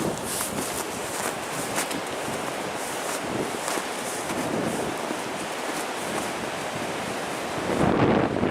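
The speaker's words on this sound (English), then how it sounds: "look at those waves coming in on the shoreline" Lake Superior waves break and wash onto the shoreline at Pictured Rocks, Michigan, in January, a steady broadband roar mixed with strong wind buffeting the microphone, swelling louder near the end.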